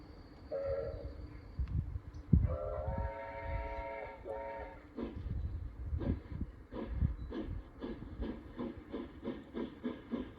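An LGB French Mikado model steam locomotive with a Zimo decoder runs along the track. Whistle-like tones sound first, followed by a steady rhythmic chuff and clatter, close by and moderately loud.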